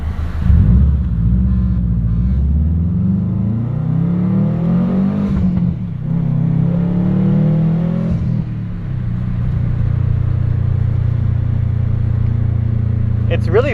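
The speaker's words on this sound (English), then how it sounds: "Give it a little rev." A car engine fitted with a new exhaust revs in several rising and falling surges, then settles into a deep, loud idle rumble, recorded close by.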